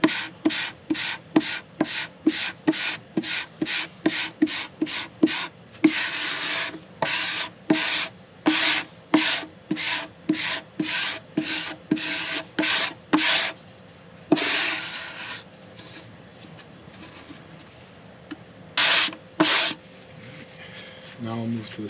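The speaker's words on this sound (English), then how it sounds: "I will take the spreader and run it diagonally to the grain" A spreader is dragged across mandola wood to force grain filler into the grain, making a long run of rhythmic rasping scrapes, quick regular strokes that pause briefly and resume, close and fairly loud.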